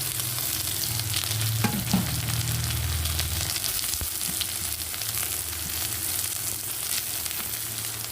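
Chopped onion and green chilli fry in hot oil in a wok, a steady close sizzle with a few clinks and scrapes of stirring, running alone without any talk.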